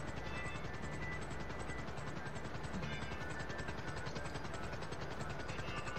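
A video game helicopter's steady rotor chop drones continuously, loud and close, with faint rattling bursts like distant gunfire mixed in.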